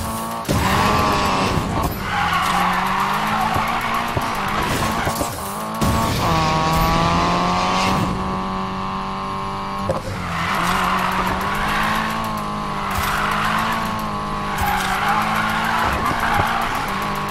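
A Nissan Silvia drifts in the racing game Need for Speed Payback, its engine howling in long sustained tones under loud, continuous tire squeal, with brief breaks at gear shifts.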